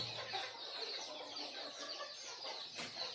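Village chickens and their chicks in a small backyard poultry setup give a steady, continuous chorus of high chirps and clucks, fairly quiet and without any talk.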